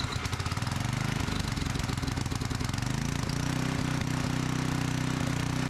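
A repaired generator engine starts and runs on choke, its fast rough chugging stroke settling into a steady, loud mid-pitched drone close by, with no talking.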